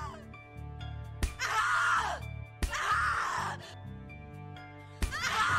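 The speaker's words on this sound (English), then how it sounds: "Scream your lungs out." Screams from characters in the horror video game The Cat Lady: three long, loud, strained cries each break in sharply, alternating with lower groaning voice and a droning game soundtrack.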